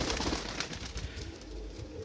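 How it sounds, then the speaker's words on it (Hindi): A golden pigeon with red pearl eyes coos softly in a low, rolling murmur against a hushed background, repeated gentle pulses with no speech. "गोल्डन गोल्डन लाल मोतियों वाला कबूतर है"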